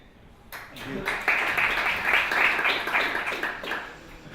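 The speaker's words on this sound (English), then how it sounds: "An applause for Victor" Audience applause greets a startup CEO taking the stage at the South Summit 2017 B2B startup competition, scattered claps building into a fuller round that swells in the middle and tapers off near the end.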